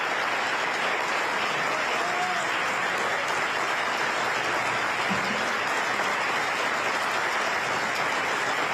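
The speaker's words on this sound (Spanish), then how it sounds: "Un aplauso para Bernardo." A dense, continuous wash of applause rises from an audience at a political event and holds at an even level throughout, with a few faint voices mixed in.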